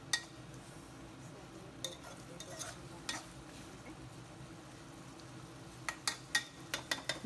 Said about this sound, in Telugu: ఇప్పుడు కొంచెం కొత్తిమీర వేసేసి ఒక్కసారి కలుపుకొని